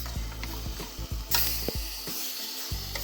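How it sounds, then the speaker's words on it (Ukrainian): A spoon stirs and scrapes a thickening cake cream in a pot over low heat, with a soft sizzle underneath and irregular knocks against the pan. "Ставимо на невеликий вогонь і постійно перемішуючи, доводимо масу до загустання."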